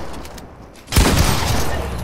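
Rapid burst of video game gunfire erupts after a quiet moment, sustained and loud through the rest of the clip with no talking over it.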